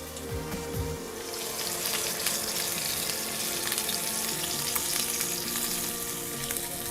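Pork seasoned with pepper and thyme sprigs sears in a hot pan, giving a loud, steady, close sizzle that holds without a break.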